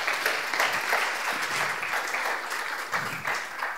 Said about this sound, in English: Une autre main d'applaudissements, s'il vous plaît.